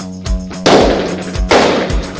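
Pistol and rifle fire at a firing range, a few loud, close cracks and heavier booming reports in irregular succession, each followed by a short ringing decay.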